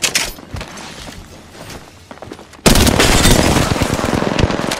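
Gunfire in Apex Legends, with a quieter stretch of scattered shots that jumps at the midpoint into loud, dense rapid automatic fire with sharp, closely packed reports.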